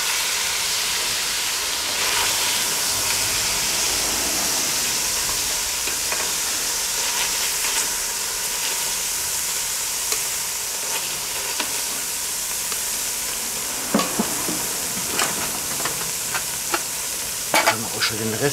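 Black Angus beef strips from rouladen frying in a Dutch oven, a steady dense sizzle and hiss close by, with scattered sharp clicks and scrapes of a utensil toward the end and no talking.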